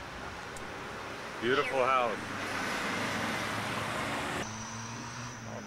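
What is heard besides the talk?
busy street traffic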